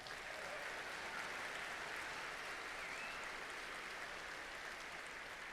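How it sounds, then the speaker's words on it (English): Audience applause for Hemlock Semiconductor at a FIRST robotics state championship, a faint, distant, even wash of clapping from a large crowd, sustained throughout. "Let's give them a round of applause"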